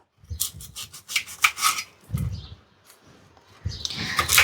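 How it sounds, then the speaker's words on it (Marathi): Knife chopping an onion finely on a board, a series of quick, close rasping cuts with short pauses between bursts, fairly quiet. "तर कांद्याला बारीक कापून घ्यायचं"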